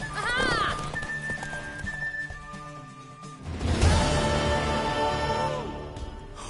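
A horse whinnies in a PS4 video game, followed by clip-clopping hooves and a snort, with people talking over the sounds.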